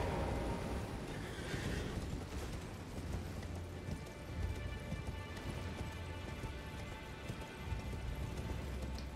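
A horse neighs and its hooves clip-clop in the game Elden Ring, with a whinny early on followed by steady hoofbeats under rain-like ambience.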